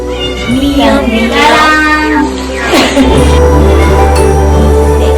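A cat meows loudly and close by, giving several drawn-out, wavering calls in a row over a low steady hum.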